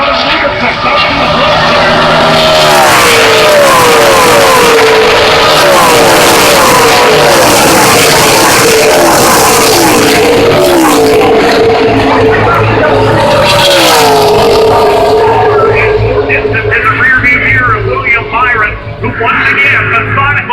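Race trucks at Pocono Raceway roar loudly around the track as a pack, engine whines rising and falling as they pass, with a commentator's voice running over the noise.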